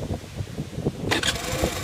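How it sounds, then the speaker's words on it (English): A moped scooter engine starts cold, first cranking in short rhythmic pulses and then catching with a sudden rough burst, close and moderately loud. "So this is a cold start, so it'll take a while to warm up."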